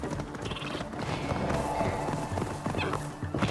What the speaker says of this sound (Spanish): Madre mía, pinche caballo vago este, ¿eh?